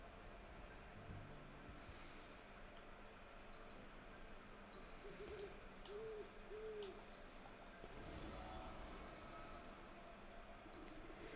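An owl in a video game's forest gives three soft, low hoots in quick succession over a steady ambient hum, faint and somewhat distant.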